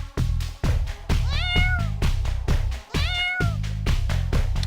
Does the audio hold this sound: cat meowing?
yes